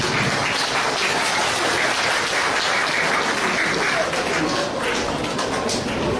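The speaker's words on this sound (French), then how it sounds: "Applaudissez à l'association qui est de la première" A crowd at an Eid celebration in Plaine Verte claps loudly for an association, a dense continuous roar of many hands, close and sustained throughout.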